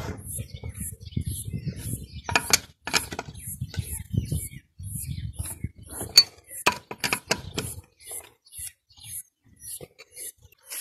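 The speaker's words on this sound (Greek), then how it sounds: "Ξαναβιδώνουμε τα παξιμάδια, τα σφίγγουμε." Wheel nuts are tightened by hand on a Honda SCV100F scooter: a steady run of regular ratcheting clicks and mechanical creaks, close and fairly loud, with muffled handling noise underneath at first.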